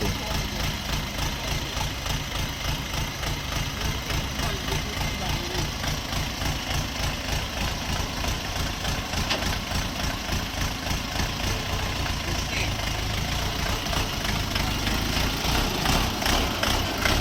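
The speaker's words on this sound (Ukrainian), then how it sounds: "Зараз людина тестує Оріон РД 404." An Orion RD 404 mini tractor engine runs steadily during a test drive, a loud, close, continuous diesel chugging with a rapid pulsing beat throughout, while people talk over it.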